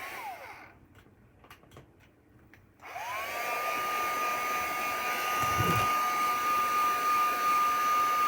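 A hair dryer switches on and roars steadily to dry a mixed media canvas, loud and close with a constant high whine. It follows a few seconds of quieter handling noises.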